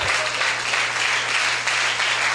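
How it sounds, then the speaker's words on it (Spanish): Steady, dense applause from a church congregation during a sermon, a continuous wash of clapping with a low hum beneath it and no voices. "Ese aplauso es para el Señor."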